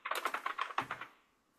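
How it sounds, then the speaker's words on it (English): Quick, evenly paced keystrokes clatter on a computer keyboard, about a dozen crisp taps in a brief burst before a quiet tail. "I'm typing it."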